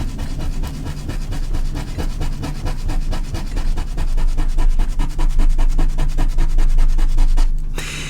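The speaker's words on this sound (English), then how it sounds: "it takes quite a bit of rubbing to see any effect at all" Steady back-and-forth rubbing of an eraser-like tool across hard paper to remove ink, a dense repeated scrubbing rhythm close up that continues for several seconds before stopping abruptly near the end.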